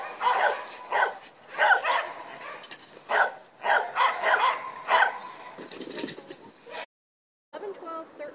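A seasoned dog barks during agility training on weaves and serpentines, giving about eight sharp, loud, close barks in an uneven rhythm.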